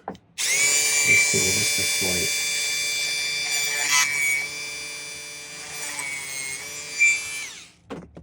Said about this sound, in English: So I'm just going to use this diamond burr.